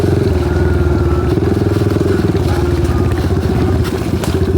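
A Kawasaki KLX 110 trail bike engine drones steadily and loudly throughout, with a rough, pulsing mid-range note as the rider gives it throttle on a bush trail.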